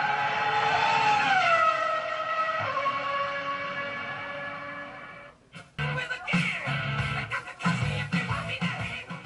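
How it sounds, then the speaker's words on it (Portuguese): Racing car engine on a motorsport track, revving loud and steady with pitch sweeps, then a brief drop before rougher, choppier bursts of engine noise and mechanical clatter. "Sobe o giro do motor."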